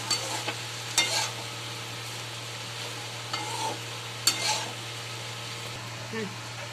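Leftover rice being fried in a kadhai with onion and tomato, a spatula scraping and tossing it in several distinct strokes, with a faint sizzle and a low steady hum underneath.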